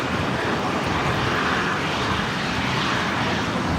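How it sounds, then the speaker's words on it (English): A Velocity Boeing 737-700 jet departs Brisbane Airport with a steady, loud, broadband engine roar that holds constant throughout. "looks like we have a Velocity 737-700 departing next."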